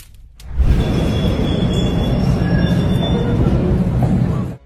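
A New York subway train rumbles loudly through a station, a dense steady roar with faint squealing wheel tones above it, close and continuous.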